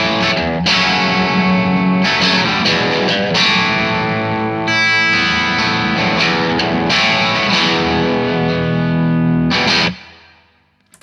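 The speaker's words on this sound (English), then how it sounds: "So I'm taking up the drive on the distortion channel to about 3 o'clock." Electric guitar driven through an MXR Duke of Tone overdrive pedal with the drive turned up on its distortion channel, playing loud sustained crunchy chords for about ten seconds before ringing out and fading to silence.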